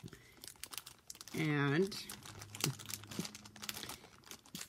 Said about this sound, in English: this one is a bag full of trim